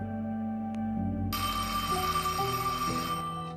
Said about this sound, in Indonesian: dering pesawat telepon di rumah Evelyn sama sekali tak terdengar oleh